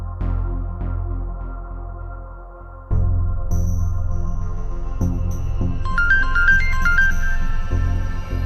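A phone rings and goes unanswered, a steady electronic ringtone with a looping melodic pattern that grows brighter partway through and plays on without interruption.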